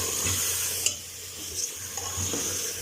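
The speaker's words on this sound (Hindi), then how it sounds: "अब अच्छी तरह मसाले के साथ गोश्त को फ्राई करेंगे" Mutton pieces frying and being stirred with spices for nihari, a steady close sizzle with occasional scrapes and clinks of a spoon against the pot, no talking.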